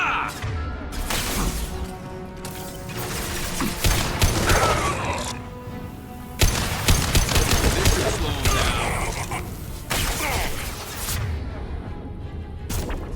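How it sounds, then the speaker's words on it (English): Weapon fire and combat noise from the video game Mass Effect 2 Legendary Edition, with repeated bursts and impacts over a dense, loud mix of music and effects, one sharp blast near the middle. "Shooting at me."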